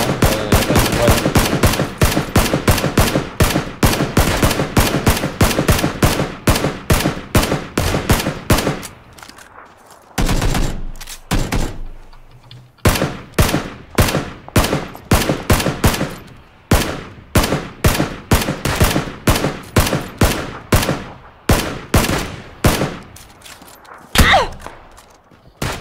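Bursts of rapid gunfire from PUBG on the Miramar map come in fast loud volleys of closely spaced shots, with brief pauses and a few separate single shots and thuds in between.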